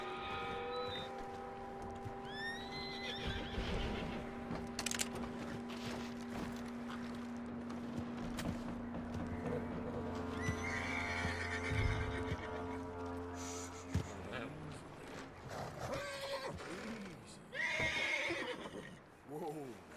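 A horse in Red Dead Redemption 2 whinnies several times amid scattered hoof clops and snorts, with people talking over a low steady hum and a music-like background.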